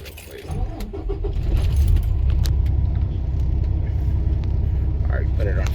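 Semi truck at a port container terminal starting up: keys jangle and click, then the diesel engine catches into a steady low rumbling idle that continues to the end, with someone talking over it.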